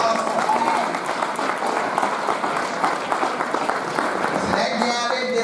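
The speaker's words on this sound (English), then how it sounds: "Let's give her another big round of applause." A crowd at a community service award ceremony claps steadily throughout, a thick continuous patter with voices and cheers mixed in beneath it.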